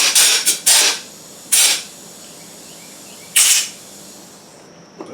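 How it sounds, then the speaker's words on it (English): Compressed air from a hose blasting into the carburetor of a 1979 Honda Express, several loud hissing bursts, a quick cluster at first and then two more spaced out, with a faint background hum between them. "We got the air hose here. Let's give the carb."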